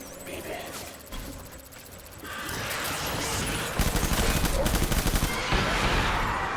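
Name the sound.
gunfire in the video game Death Stranding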